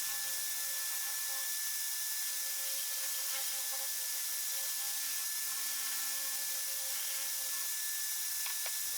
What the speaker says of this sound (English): I'm now giving both boards a light sanding using the Mercaderos